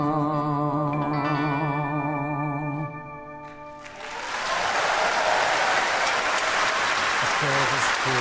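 Music with sustained tones fades out, then the Nobel Prize Award Ceremony crowd bursts into loud, dense applause that continues to the end.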